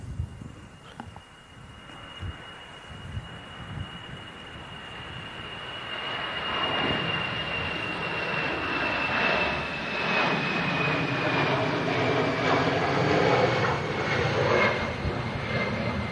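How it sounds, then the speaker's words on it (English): A Brussels Airlines Airbus A320 jet taking off from Manchester Airport, its engine roar building from distant to a loud, sustained rumbling blast heard alone. "A320 blasting out of Manchester."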